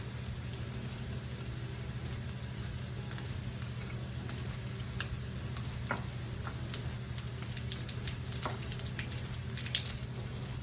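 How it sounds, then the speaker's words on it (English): Lion's mane mushroom crab cakes frying in oil make a steady close sizzle with scattered small pops and crackles, continuous throughout with no talking. "I've got the rest of these frying"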